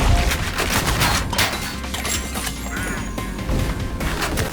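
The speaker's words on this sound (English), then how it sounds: "Seems like you had a pretty tight spread on the shotgun." Shotgun blasts in the retro shooter Ion Fury, several loud close booming shots with metallic action clanks between them, spread irregularly across the stretch with no talking.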